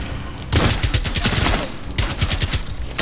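Suppressed gunfire in Rainbow Six Siege, heard as two sustained automatic bursts of rapid, muffled shots, close and loud, separated by a short pause.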